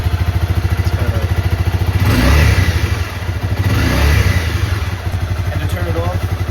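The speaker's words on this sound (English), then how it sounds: "the bike is on. It's amazing." A motorcycle engine idles close by with a steady, rapid putter, swelling twice into brief revs before settling back to a loud, even idle.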